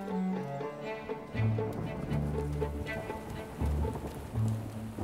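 Cartoon storm sound effect with steady rain pattering throughout, low rumbling thunder swells under a background music score, no speech heard.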